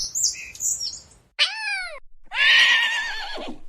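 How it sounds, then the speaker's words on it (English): A recorded horse neigh plays from a toy sound button, a loud, electronic-sounding whinny in two pitched bursts, preceded by brief chirpy tones. "The green button has the sound of what a horse sounds like."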